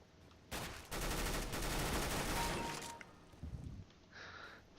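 A close, sustained burst of rapid gunfire from Counter-Strike: Global Offensive in arms race mode, dense cracks running for about two seconds before tapering off, followed by faint game noises and no talk.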